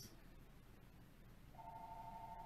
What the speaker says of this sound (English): y'all ignore that phone ringing.